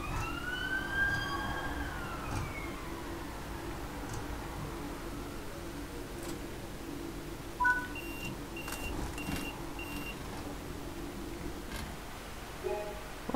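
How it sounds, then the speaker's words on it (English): An emergency vehicle siren wails outside a house as it passes by, rising and falling at a moderate distance, with a few faint beeps near the end. "That's because there's a siren going past my house."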